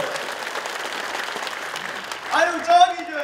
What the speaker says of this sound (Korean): 박수 한번 듣고 가자고요